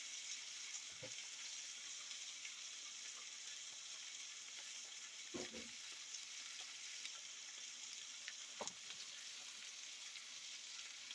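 Pork chops, Jamaican smothered style, sizzle in a pan with a constant, quiet hiss. A few soft clinks and scrapes come and go over the frying.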